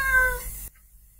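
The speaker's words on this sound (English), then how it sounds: "Turbo, who's trill meowing as well because he wants some food from me" A cat named Turbo gives one short trilled meow begging for food, close and clear, ending abruptly into silence.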